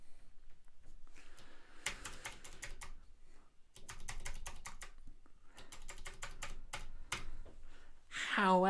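Rapid typing on a computer keyboard while building a simple HTML web page, bursts of close, crisp key clicks separated by short pauses, ending in a brief swell of other noise.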